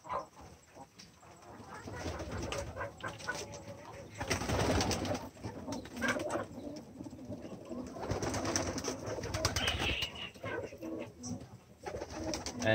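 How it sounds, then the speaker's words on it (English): Fan-tailed pigeons in a loft coo softly and repeatedly amid rustling and fluttering, a steady busy murmur of birds close by with no talk. "These are the fan-tailed pigeons."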